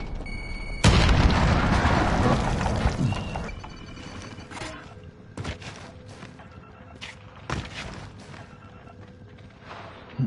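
A frag grenade detonates in Call of Duty with one loud, sudden boom that rumbles and fades over a few seconds, followed by scattered sharper impacts and game sounds.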